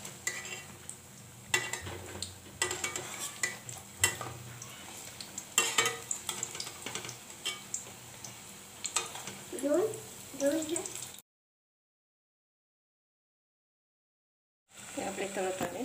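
Moong dal bhaje fritters fry in hot oil with a steady sizzle, and a utensil stirs and scrapes them in the pan. A voice talks over parts of it, then the sound cuts to silence before briefly returning.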